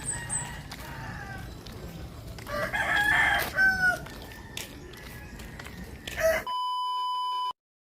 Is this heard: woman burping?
no